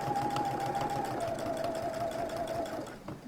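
A sewing machine runs steadily while topstitching a garment collar, its motor hum and needle chatter continuous and close, easing slightly toward the end.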